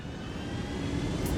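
Helicopters in the video game Ghost Recon Wildlands give a steady, dense rotor and engine roar that holds at a constant level throughout, with no talk over it.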